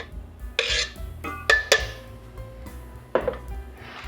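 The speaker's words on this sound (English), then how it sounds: "I'm just going to mix this, start mixing it in" Food being tossed with dressing in a bowl, heard as a few close, sharp clinks and scrapes of a utensil against the bowl, separated by quieter mixing rustles, with no talking.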